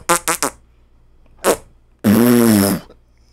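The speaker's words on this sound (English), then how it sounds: "Big nasty fart too," A big, nasty fart: a few short sputtering bursts, then a loud, rough, drawn-out blast lasting nearly a second, close and prominent.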